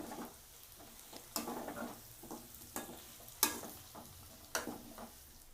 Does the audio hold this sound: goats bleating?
no